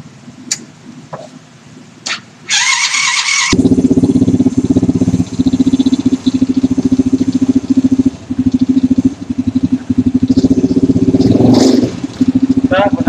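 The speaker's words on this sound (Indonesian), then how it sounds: "langsung kita nyalakan dulu sepeda motornya" A carbureted Suprafit motorcycle engine starts after a brief cranking burst and settles into a steady, loud idle with a rhythmic pulse that continues close by.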